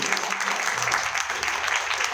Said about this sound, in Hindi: उनके लिए जोरदार ताली होनी चाहिए।